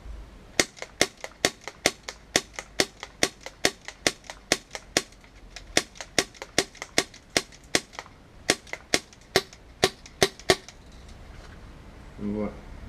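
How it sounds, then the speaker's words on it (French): A gas-powered airsoft replica gun fires about two dozen sharp, evenly spaced cracks at close range, each a crisp snap with a short gas puff, ending with a brief rustle. "dès qu'on tire, vous avez entendu donc la détonation avec le gaz qui pouvait s'échapper donc du canon"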